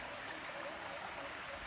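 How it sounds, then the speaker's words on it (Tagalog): A mountain stream with a stronger current after heavy rain flows in a steady, soft, continuous rush, faint and unbroken. "So, medyo lumakas yung agos ngayon ng sapa."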